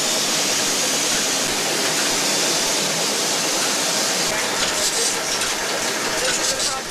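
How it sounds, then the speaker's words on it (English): An oil pressure pump runs in the engine room of the steamboat Virginia V, whose machinery dates to 1922, giving a loud, continuous broadband rushing noise that stays steady throughout. "This is an oil pressure pump."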